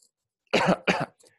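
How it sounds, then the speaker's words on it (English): A person gives two quick, close coughs in succession, loud and dry, followed by a brief faint throat sound, with no talking. "Sorry for coughing."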